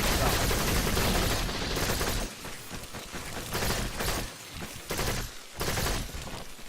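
The Dera gun fires in Warframe, bursts of dense rapid shots in several loud volleys separated by short gaps, with no voice over them.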